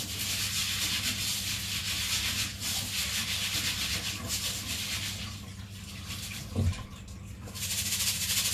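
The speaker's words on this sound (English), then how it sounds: "go over to the sink and rinse them out and give them a really good massage. So I do this as the water's running through them" Lentils being rinsed and rubbed by hand under a running kitchen tap in a sink, a steady close rush of water with rubbing and swishing, one brief low knock near the end.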